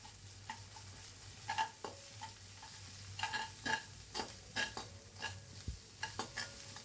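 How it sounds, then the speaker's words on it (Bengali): Chili and turmeric powder with ginger-garlic paste frying in hot oil for a river prawn curry, a soft steady sizzle under repeated scraping and stirring knocks of a spoon in the pan, close and fairly quiet. "আমার মশলাটা তেলে ভাজা ভাজা হয়ে গেছে"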